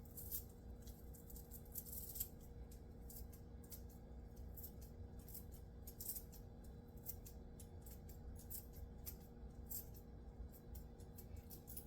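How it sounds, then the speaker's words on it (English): Herb scissors chop fresh cilantro in quick runs of small, crisp snips, quiet and close, over a low steady background hum, with no talking. "I'm just going to take my herb scissors"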